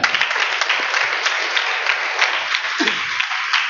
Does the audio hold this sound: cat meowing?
no